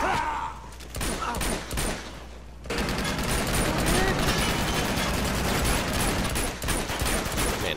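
Rapid hip-fire gunfire from a third-person shooter game, Uncharted 2, sustained bursts of automatic shots filling most of the stretch, loud and dense after an opening of scattered shots and a brief quieter moment.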